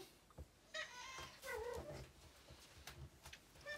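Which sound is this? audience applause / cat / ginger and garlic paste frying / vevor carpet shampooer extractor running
cat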